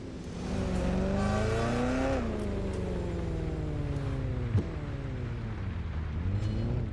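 Car in Watch Dogs Legion driven with the handbrake, its engine droning and shifting in pitch as it revs, with a brief squeal midway and no talk.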